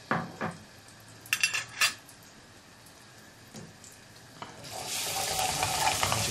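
Ginger and garlic hit hot oil in a pan: a few clinks of utensils against the pan first, then a rising, steady close sizzle building over the last couple of seconds.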